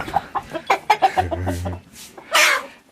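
Bhimavaram breed chickens cluck in quick bursts, a run of close, choppy clucks followed by a louder squawk.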